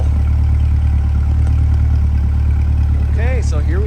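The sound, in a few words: 2023 Corvette C8 Z51 exhaust at idle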